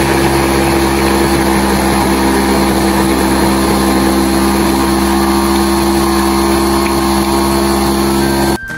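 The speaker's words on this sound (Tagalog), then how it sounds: "Gagamit nga pala ako guys ng food processor sa pag-chop ng aking carrots and onion." Food processor running at full speed chopping carrots and onion, a loud continuous motor whine with a steady drone that cuts off abruptly at the end.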